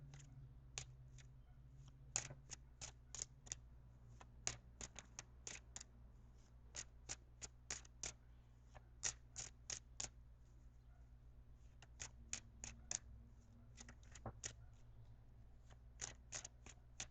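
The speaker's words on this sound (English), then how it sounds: "So I'm going to shuffle for a few more seconds and then cut the cards." Tarot cards shuffled by hand in a quiet room, a steady run of crisp riffling snaps and taps at a close distance, with a low background hum.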